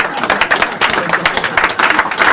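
Audience applause at a political talk on Bush and the war, steady dense clapping from a crowd filling the whole moment without speech.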